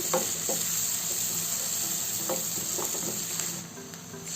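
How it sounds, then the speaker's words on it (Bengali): Onion paste sizzles and spits steadily in hot mustard oil for a Bangladeshi chicken curry, with a few stirring scrapes and clinks of the spoon, close and continuous with no talking. "এখন আমি পেঁয়াজের পেস্টটা দিয়ে দিচ্ছি"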